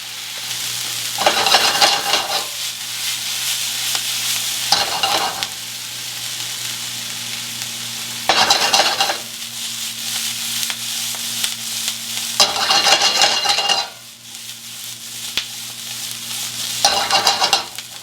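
Onion and pepper sautéing over medium heat in a pan for Aleppo pepper shakshuka, with five bursts of sizzling and stirring rising over a steady low hum, quieter between them.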